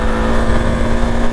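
A KTM Duke 390 single-cylinder motorcycle engine held around 7000 RPM, a loud, steady buzzing drone with a strong constant tone, close to the microphone and uninterrupted.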